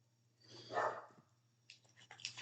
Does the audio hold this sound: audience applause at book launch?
no